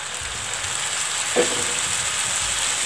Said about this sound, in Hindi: अब इसमें हम टमाटर डाल देंगे